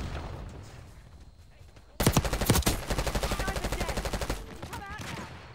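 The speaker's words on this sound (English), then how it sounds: "The 50 round mag is so fun on this SMG." Rapid sustained automatic fire from an SMG with a 50-round magazine in Call of Duty, a long loud burst of evenly spaced shots after a quieter stretch of game ambience, ending in a few softer mechanical clicks.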